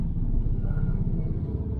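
Motorbikes rumbling along a street, a continuous low engine drone close by with no voices.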